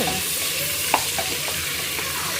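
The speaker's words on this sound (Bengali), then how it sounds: "এখানে আমি মশলাটা ভালো করে ভুনে নিচ্ছি একটু মানে কষিয়ে কষিয়ে এই তেলটা বের করে নেওয়া" Spice paste for yakhni pulao frying in oil as it is stirred, giving a steady soft sizzle throughout with a few light clinks of a spoon against the pan.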